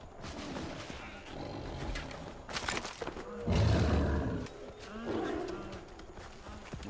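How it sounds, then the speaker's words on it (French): A tiger roars in the video game Far Cry Primal, a loud, low growling burst in the middle among other game sounds and movement noise, with quieter animal calls before and after. "J'entends un tigre, un autre en tout cas."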